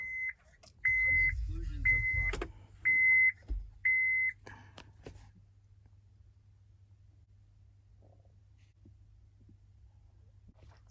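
An OBD2 diagnostic scanner, a THINKCAR Thinkscan 672 hooked to a 2010 Honda Pilot, gives five short, evenly spaced electronic beeps as it powers on, close by over a low hum, with a few soft clicks afterward.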